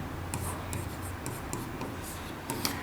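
Chalk or marker scratching out math working on a board in a classroom, short rubbing strokes in irregular bursts over a low steady room hum, fairly close and moderately quiet.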